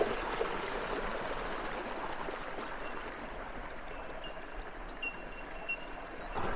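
The shallow, clear Towamba River flows past a picnic area in the mountains of southern New South Wales, a soft, steady wash of running water heard alone at moderate distance.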